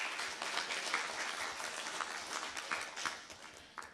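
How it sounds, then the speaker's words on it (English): A conference audience applauds a team in a fairly faint, continuous wash of many hands clapping that holds for a few seconds and tapers slightly at the end. "A round of applause for them."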